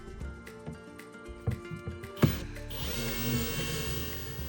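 A power drill drives screws inside an off-grid camper in short bursts of whirring, separated by clicks and knocks, ending in a longer steady spin.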